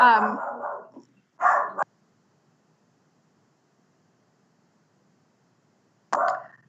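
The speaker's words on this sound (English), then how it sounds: "My dog is barking in the background." A dog barks a few times in the background, with a couple of close, clear barks early on and one more after a quiet gap.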